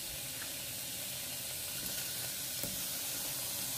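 Aromatics and torn kaffir lime leaves sizzle in a pan while being stir-fried for a Phuket-style chili dip, a soft continuous frying hiss with faint stirring scrapes throughout.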